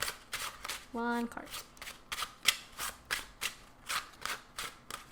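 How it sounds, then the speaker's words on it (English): Cardboard tarot cards are riffled and shuffled in a steady series of crisp, rapid bursts of flapping and snapping, close to the ear, with a voice briefly speaking near the start. "you want to see me shuffling them"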